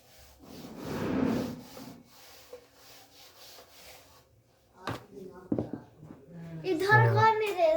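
A board in a class 10 maths lesson is rubbed to erase lines, giving a brief broadband scrubbing burst early on, followed by quieter sounds and a voice speaking near the end.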